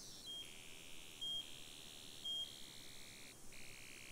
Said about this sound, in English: a sweeper of changing variable rate